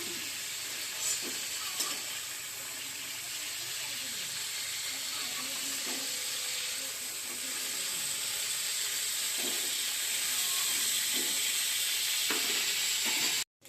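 Lote fish frying in oil give off a steady, close sizzling hiss that grows slightly louder over time, with occasional soft clinks and faint speech underneath.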